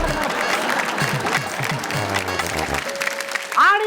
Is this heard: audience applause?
yes